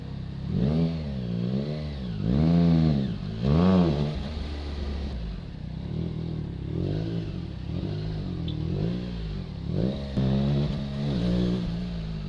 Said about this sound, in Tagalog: Afternoon traffic.